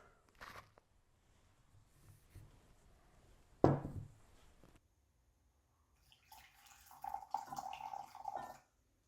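Boiling water is poured onto freeze-dried peach crumble in a quiet kitchen, in a few short, soft splashes and trickles separated by near silence, with a longer pour toward the end.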